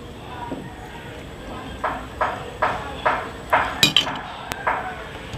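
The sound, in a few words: stirring dinuguan liempo in a cooking pot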